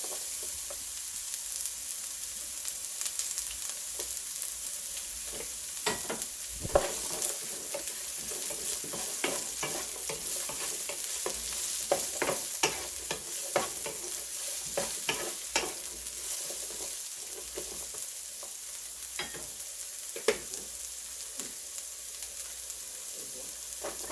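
Onions sizzle and fry in hot oil in a frying pan, with cumin already in, while samosa filling is made; a steady close crackle carries frequent stirring scrapes and clatters, and no one speaks.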